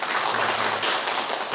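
An audience at a lecture claps in a brief, dense burst of applause, steady and fairly close for just over a second.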